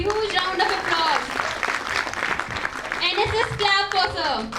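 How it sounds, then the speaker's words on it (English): Audience applause at the inauguration of a National Integration Camp at NSUT Delhi, a steady wash of clapping across the whole stretch with voices mixed in over it. "Huge round of applause."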